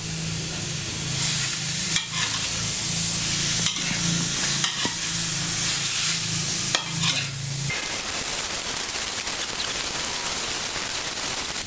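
Fish being stir-fried for an Isan-style dish, a dense hissing sizzle with sharp scraping knocks of a spatula stirring in the pan, steady and close, fading to softer broadband hiss in the last few seconds.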